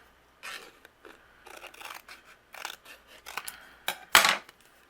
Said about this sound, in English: So I'm going to line this up just using my scissors.